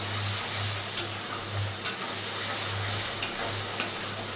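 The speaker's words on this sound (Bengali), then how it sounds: "এগুলো একটু ভাজা ভাজা হোক" Spices fry in oil with a steady hissing sizzle, interrupted by four or five sharp spatula taps against the pan over a low background hum.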